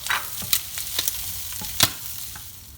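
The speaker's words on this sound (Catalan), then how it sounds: "He estat fregint una estona la sèpia i afegeixo la ceba i l'all" Cuttlefish with onion and garlic frying in a pan for black rice, a steady close sizzle broken by a few sharp spatters and light stirring scrapes, no voices.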